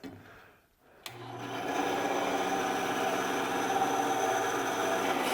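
A workshop bandsaw or belt sander switches on with a click and spins up within a second into a steady, buzzing motor whir that holds to the end.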